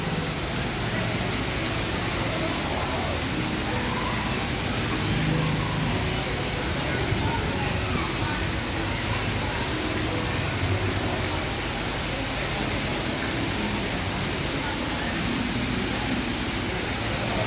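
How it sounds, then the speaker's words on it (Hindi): Heavy rain in Karachi falls as a steady, dense hiss that stays even throughout with no pauses, close and moderately loud. "इतनी तेज़ बारिश हो रही है यहाँ पर"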